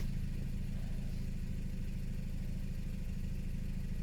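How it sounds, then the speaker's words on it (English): A Ford car fitted with a Powershift 6DCT450 gearbox idles with a steady, even low rumble and a fine rhythmic pulse, close and unchanging, with no talk over it. "Start the engine? Yes, it's running."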